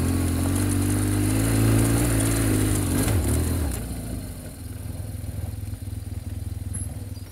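A BMW GS motorcycle engine climbs off-road, a loud steady low drone that rises and wavers in pitch, then drops at the top of the climb and settles into a lower, rougher idle.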